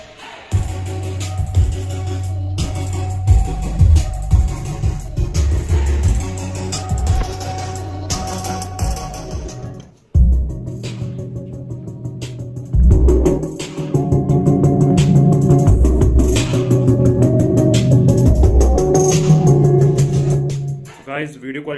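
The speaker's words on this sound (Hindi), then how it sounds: "गाना हम प्ले करने जा रहे हैं, आप साउंड क्वालिटी सुन लीजिएगा" Recorded music plays through a Zebronics Zeb-Jukebar 3900 soundbar, a full song with steady beat and vocals, briefly cutting out midway before resuming at similar loudness.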